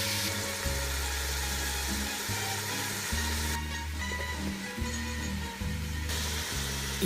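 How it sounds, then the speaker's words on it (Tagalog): Onions and ginger stir-fry in a pan for tokwakbet, giving a loud continuous sizzle with a steady hiss over a low background hum, and no talking. "First, we would stir fry the onions and ginger."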